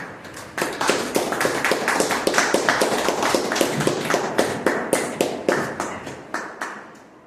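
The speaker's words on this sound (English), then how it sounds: "please have a round of applause for him" A small audience at a Toastmasters meeting claps together for a member, a steady patter of many close, sharp hand claps running for several seconds before tapering off.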